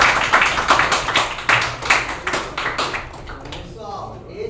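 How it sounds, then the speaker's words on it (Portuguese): Classroom audience of students clapping for a teacher: a few seconds of brisk, uneven hand claps at moderate volume, fading out as a voice begins talking near the end. "Palmas para vocês."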